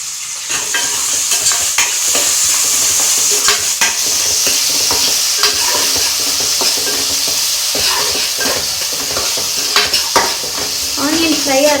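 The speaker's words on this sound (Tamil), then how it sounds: "ஆனியன் ஃப்ரை ஆகிறதுக்கு நம்ம வெயிட் பண்ணலாம்" Onions fry with a pinch of salt in a pan for paneer biryani, a loud, steady sizzle broken by frequent scraping stirs and occasional clinks of a utensil against the pan.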